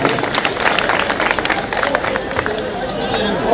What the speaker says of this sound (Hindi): तो इसीलिए इन साथियों के लिए भी एक बार जोरदार तालियां बजा देंगे।